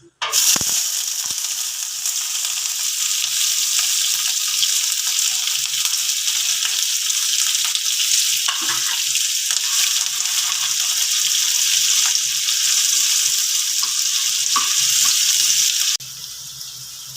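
Chopped onions and green chilies fry in a pan for Bengali-style matar ghugni, a loud, continuous hissing sizzle with faint stirring knocks that holds for about sixteen seconds before easing to a quieter hiss, no speech.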